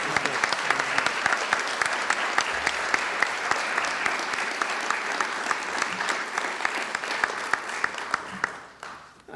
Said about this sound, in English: I hope you all are clapping for that introduction.